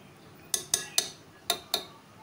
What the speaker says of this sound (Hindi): इसको हम इसी बर्तन के अंदर घोट लेंगे